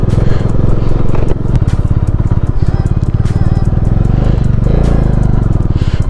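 A Bajaj Dominar 400 BS6 motorcycle with an engine problem runs loudly and close on a mountain route toward Chandrataal, its rapid, steady thumping exhaust pulse carrying on without pause amid clattering mechanical noise.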